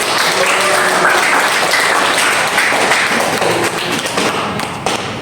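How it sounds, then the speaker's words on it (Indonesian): A classroom audience applauding a student presenter, sustained dense clapping close and loud, tapering slightly toward the end. "Ya, sekali lagi kita aplaus lagi untuk Nesya."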